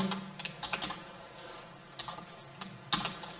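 Keystrokes on a computer keyboard as HTML code is entered, a loose run of quick clicks with brief pauses and one sharper tap near the end, close and fairly quiet with no voice.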